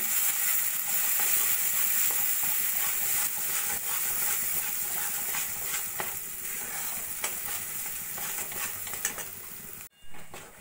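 Green pea paste with salt, turmeric and a little cumin powder fries and is stirred in a wok, giving a steady loud sizzle with scraping strokes throughout before a brief drop near the end.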